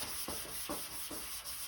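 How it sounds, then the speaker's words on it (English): Primer on a car body being sanded with a flexible block, rhythmic back-and-forth scraping strokes about every 0.4 seconds, close and steady with no talk. "you get to love sanding."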